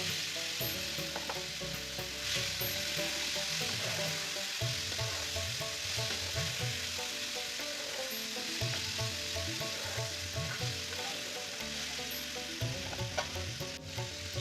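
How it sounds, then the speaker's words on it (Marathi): Marinated chicken added to a pan of oil with crackling bay leaves and curry leaves, sizzling and frying steadily up close, with the scrape and clatter of stirring throughout. "ते तडतडू लागले की पॅनमध्ये मॅरिनेट केलेले चिकन घाला"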